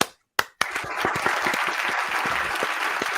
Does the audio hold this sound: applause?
yes